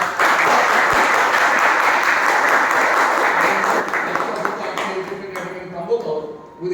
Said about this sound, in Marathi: यांची आपण सगळ्यांनी टाळ्या वाजवून